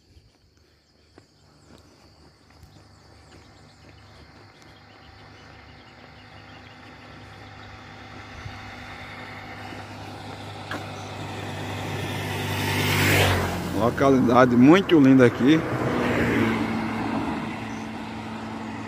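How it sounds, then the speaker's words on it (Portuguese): Cars on a snowy road at sunrise, approaching gradually from faint to loud, with one vehicle swelling past up close near the end. A short spoken remark is heard under the traffic. "Bastante carro passando na pista nesse momento."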